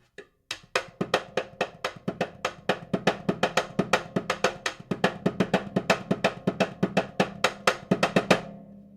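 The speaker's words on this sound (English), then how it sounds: "I can imitate it on the snare drum" A snare drum played as a stand-in for a tambourine part, sounding as a steady series of sharp, evenly spaced hits close up and alone, for about eight seconds before stopping.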